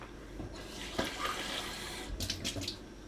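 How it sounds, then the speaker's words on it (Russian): Water poured into the water seal of a gas-heated smoker for hot-smoking pork fat, a close, steady splashing pour with a few brief louder gurgles near the end. "И нужно будет налить воды."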